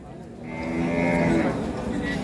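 A Sahiwal dairy cow at a cattle market gives one long, loud moo rising and holding for about a second, close by, with market background noise around it.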